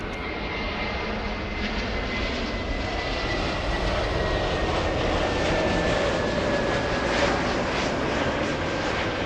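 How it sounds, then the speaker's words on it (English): Airbus A380 jets, an Emirates and a Lufthansa, take off back to back at LAX, a loud, steady roar of jet engines with a whining tone, sustained across the whole stretch without voices. "The 2 A380s back to back. The race to Germany."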